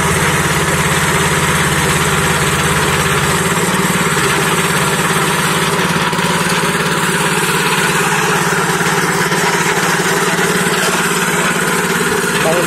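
A Fujijapan FJ601S tiller engine runs steadily at a customer's site outdoors, a loud continuous idling drone with a low vibrating hum throughout, with no voices.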